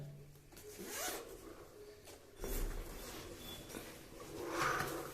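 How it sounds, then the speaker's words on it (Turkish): Zipper on a large gusseted suitcase being pulled open in several short, quiet scratchy runs with pauses between, close by in a quiet room. "İlk fermuarımız takıldı."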